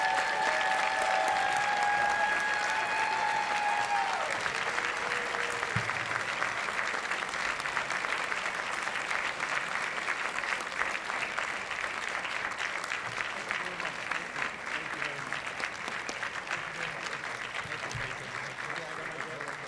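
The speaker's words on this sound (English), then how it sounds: "we can all give our biggest round of applause of the event yet to Brendan Chamberlain" A graduation ceremony crowd gives a long, steady round of applause, fairly quiet and continuous, with a few high tones and faint voices early on.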